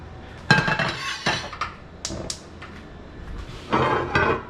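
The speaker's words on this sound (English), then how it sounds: "let's get the big pan out and get that preheated" A big cooking pan is pulled out and handled in a home kitchen: several sharp metallic clanks and clinks, close and fairly loud, in short bursts with quiet gaps between them, no talk.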